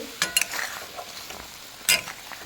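Fried paneer pieces stirred in a pan, a soft low sizzle with a few brief scrapes and light clinks of a utensil near the start and again toward the end.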